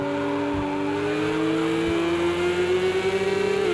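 A race car in Project Cars 2 at the Nürburgring GP brakes late into a hairpin, its loud engine note dropping as it slows, then fluttering and rising again on the exit.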